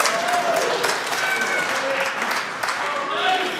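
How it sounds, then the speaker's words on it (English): Snooker crowd at the 2014 UK Championship semi-final applauding steadily throughout, a dense sustained clapping with a commentator's voice talking over it. "The crowd are enjoying this end to the semi-final"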